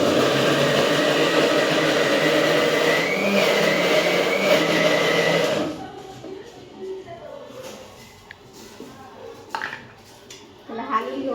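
A mixer grinder grinds ginger with a loud, steady whirring roar for about five and a half seconds, then cuts off abruptly, leaving quieter clinks and handling sounds.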